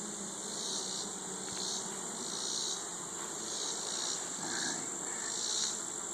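Honey bee colony buzzing steadily during an open hive inspection, a dense continuous hum of many bees close by, swelling and easing gently with no talk over it.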